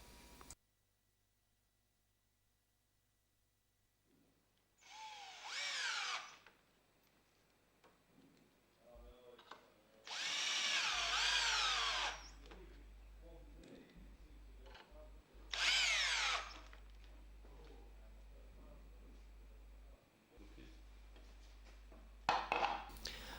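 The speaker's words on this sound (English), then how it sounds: "Align the faceplate with the centre and fix with screws." A power drill drives screws to fix a faceplate onto a wood blank for woodturning, heard as four separate loud whirring bursts of a few seconds each, with quiet pauses between them.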